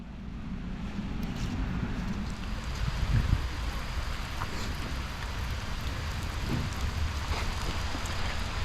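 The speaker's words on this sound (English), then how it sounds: "the rain's definitely worse than it was when we started" Steady rain falls outdoors at a wet parkrun, a constant broadband hiss with faint scattered patter and low rumble.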